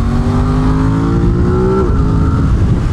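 A 2021 Aprilia RS660 motorcycle engine heard loud and close while riding, revving up smoothly on throttle then dropping off as the throttle closes, with steady wind and road roar underneath.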